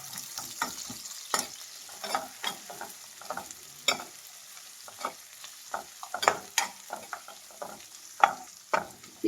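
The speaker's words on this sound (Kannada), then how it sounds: "ಈರುಳ್ಳಿನ ಚೆನ್ನಾಗಿ ಫ್ರೈ ಮಾಡಬೇಕು." Sliced onions fry in a pan for a Kannada capsicum masala, with a faint background hiss under repeated sharp scraping and clinking taps of a spoon stirring at an uneven rhythm, close and moderately loud.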